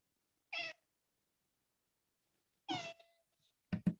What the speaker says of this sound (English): Do you have a new kitten over there?